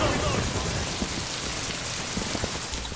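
Crackling, roaring fire from a Molotov cocktail burning in the game Insurgency, a dense continuous wash of noise that stays steady and close for the whole stretch, like heavy rain.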